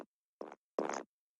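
Three short bursts of an odd, breathy mouth noise sampled from the end of a vocal recording, each burst louder and longer than the last, separated by clean silence.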